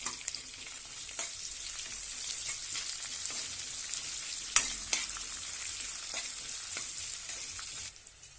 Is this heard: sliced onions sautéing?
yes